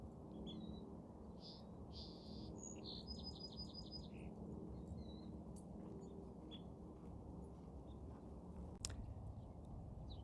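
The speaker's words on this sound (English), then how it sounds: "A nice song sparrow" A song sparrow sings from the tops of tules beside a pond, bright chirps and trills faint over a steady low rumble of wind and distant noise, with no talk.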